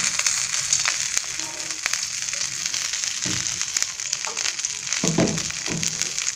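Hot oil sizzles and crackles steadily in a kadai set up for frying vegetables with chilli and onion after a fish curry, a dense continuous hiss with a few sharper pops toward the end.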